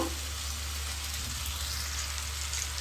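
Tomatoes fry in a pan for a spicy fish gravy, a steady close sizzle that keeps going the whole time with no talking.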